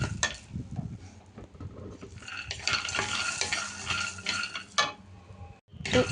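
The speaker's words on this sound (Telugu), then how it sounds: "మనకి బ్రౌన్ కలర్ వచ్చే వరకు మనం ఫ్రై చేస్తున్నాం" Peanuts frying in a pan for chutney, stirred and scraped with a utensil; continuous close rattling and sizzling with scraping strokes, loud and busy, briefly pausing near the end before resuming.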